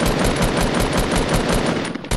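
Rapid automatic gunfire in the video game Fortnite, a loud, close, steady stream of evenly spaced shots hammering without pause for about two seconds.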